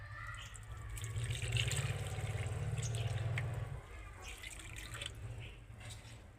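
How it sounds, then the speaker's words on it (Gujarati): Water is poured onto potted rose plants, a soft, continuous trickle and splash heard at low volume, swelling slightly in the middle before easing off. "કાયમી પાણી પાવા આવવું પડે હો ગુલાબને"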